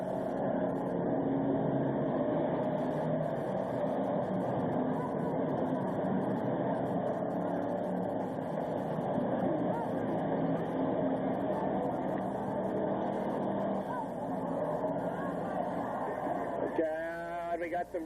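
Several race cars at an enduro race at Orange County Speedway drone loudly and steadily as they run four abreast, a continuous engine roar with a commentator talking over it.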